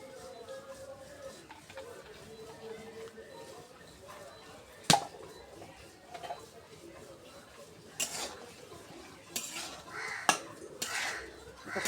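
A spoon stirs chili powder in oil inside a cooking pot, making soft scraping with a few sharp metallic clanks against the pot, the loudest near the middle and toward the end.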